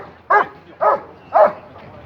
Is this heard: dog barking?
yes